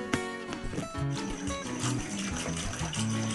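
Water pours steadily into a bucket during a woman's daily household routine, a continuous splashing gush heard close for a few seconds with a faint clatter near the start.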